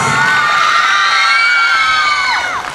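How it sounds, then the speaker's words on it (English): At a 79th Independence Day celebration, a crowd cheers and whoops for the committee members, a sustained chorus of raised voices with a few shrill cries that holds steady and tapers slightly at the end. "Let us give a thunderous applause to Independence Day Committee members"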